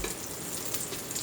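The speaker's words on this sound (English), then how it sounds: "Okay, so I'm gonna go ahead and fry them." Cooked lentil patties frying in a pan over medium-high heat, giving a dense, steady sizzle that is close and continuous, with no voices.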